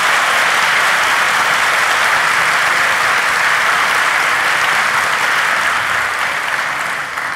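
A packed theater audience at Taksim Grand Pera claps loudly and continuously at the opening of a live Turkish relationship-quiz comedy show, a dense roar of applause that holds steady and tapers slightly at the end.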